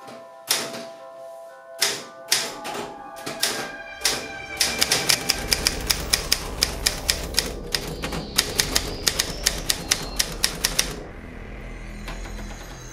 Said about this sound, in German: Eigentlich schade, dass die Schreibmaschine weg ist.